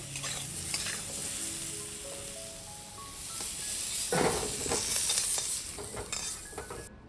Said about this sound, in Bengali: তেজপাতা গোটা জিরে ভাজা হয়ে গেছে